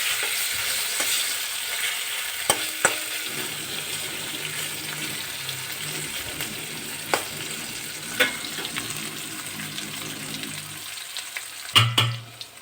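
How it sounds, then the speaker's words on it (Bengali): Marinated paneer frying in white oil with cumin in a home kitchen: a steady sizzle with occasional sharp pops and a few utensil clinks over roughly twelve seconds, no talking. "ম্যারিনেট করা পনিরগুলো দিয়ে দিচ্ছি। পনিরগুলো আমি হালকা করে ভেজে নেব।"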